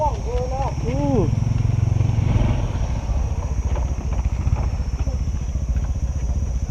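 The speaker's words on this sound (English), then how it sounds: "Eddie's running Shawn's bike up" A Honda CT 125 motorcycle labors up a steep mountain hill with a rough, close engine drone and clattering, while people speak and exclaim over it at the start.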